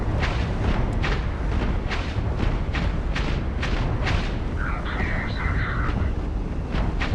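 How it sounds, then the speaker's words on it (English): An explosion in the space game Starfield sounds as a dense, sustained rumbling roar with repeated booming bursts, loud and close, and a brief higher tonal whine near the end. "Yeah, he's just gonna explode"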